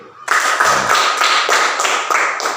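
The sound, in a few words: applause, clapping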